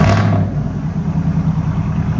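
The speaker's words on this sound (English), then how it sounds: "That's what a truck should sound like." A RAM pickup's 6.4L V8 with true dual exhaust revs up close and loud, a quick throaty burst settling into a deep, rumbling burble.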